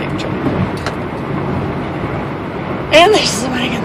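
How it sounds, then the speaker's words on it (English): A big truck rumbles alongside on the road as the car passes it, a steady low road and engine roar, with a brief sharper sound near the end. "There's a big truck."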